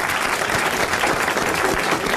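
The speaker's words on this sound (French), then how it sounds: "Vous allez applaudir Monsieur Marchesani de Boulogne." A studio audience on a 1982 French television variety show applauds a contestant from Boulogne, a dense, steady wash of many hands clapping close and loud throughout, with no talk over it.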